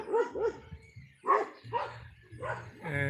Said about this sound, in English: And the doggies are barking